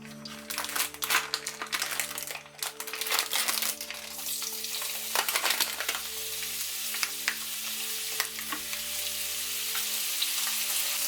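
Bacon lardons sizzle and crackle in hot oil in a pan, a dense continuous frying hiss with occasional stirring clatter, close and loud throughout.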